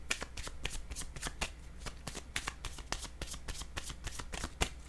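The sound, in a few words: shuffling and drawing cards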